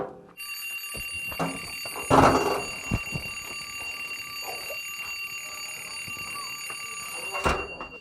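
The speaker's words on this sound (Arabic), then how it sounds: "يا اخي قول لي طفي المنبه ازعج الحاله" An alarm clock rings steadily with high, sustained electronic tones, joined by a few thumps and brief bursts of movement nearby.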